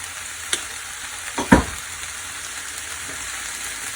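Stir fry sizzles steadily in a pan after hoisin sauce goes in, a soft continuous hiss broken by a few sharp clatters of stirring, with no talking.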